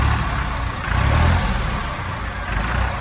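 Turbocharged New Holland 3630 tractor, a 55 HP farm machine, running in a sound check: a steady, loud, close engine drone with a slight swell in the middle, with no voices over it.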